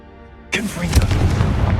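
A Confringo fire blast spell bursts in the Hogwarts Legacy video game, a sudden loud explosive boom after a quiet lead-in, then a rumbling crackle of blasts and debris with a voice briefly mixed in.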